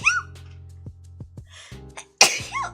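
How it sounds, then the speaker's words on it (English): A single sharp sneeze bursts out near the end, loud and close, preceded by a brief breathy build-up and a few soft clicks. "I'm gonna sneeze."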